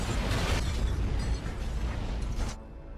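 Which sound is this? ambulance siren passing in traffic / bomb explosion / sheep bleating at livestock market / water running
bomb explosion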